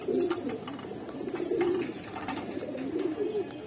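Afsan Bagha pigeons coo close by in soft, repeated rolling calls, several overlapping phrases with faint background noise.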